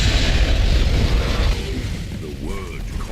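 A Dragon Shout, or Thu'um, in a video game: a loud rushing, booming blast that fills the first second and a half, then fades into a lower rumble with faint tonal traces.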